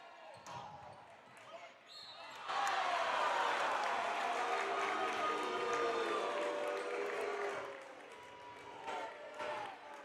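A basketball arena crowd swells into a loud, sustained roar of disapproval after a quieter stretch, holding for several seconds before easing, with an announcer's voice faintly underneath.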